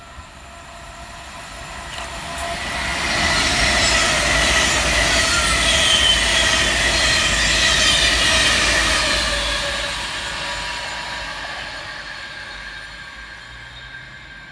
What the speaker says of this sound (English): Next up to pass southbound will be 390-016, working 1 Alpha 24 from Avanti West Coast from Manchester Piccadilly through to London